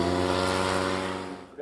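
Supercharged flat-two Citroën 2CV ice racing car engine running loud and close, a steady buzzing drone that fades toward the end, with a short bump of sound at the finish.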